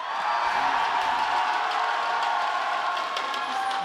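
A live esports crowd at an IPL 5 League of Legends match screams and cheers in a big, sustained roar that holds loud and steady throughout, with whoops rising out of the mass of voices.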